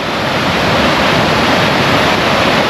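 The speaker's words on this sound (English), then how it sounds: "This waterfall is probably, if you went directly vertical, it'd be 12 feet." A waterfall about 12 feet high rushes steadily and loudly from near by, a dense broadband roar with no pauses and no voices.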